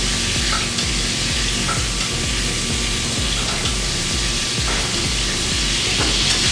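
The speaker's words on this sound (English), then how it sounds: "Baste the steaks with the melted butter." Steaks frying in a hot pan while being basted with melted butter, a loud constant sizzle and spatter with soft rhythmic scooping pulses from the spoon about every half second, close up and without talk.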